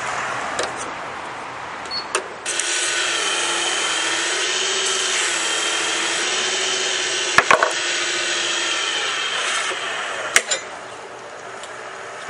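A wooden napkin ring blank spins on a wood lathe with a steady, close whirring hum, broken by a few sharp cracks and pops as the blank splits.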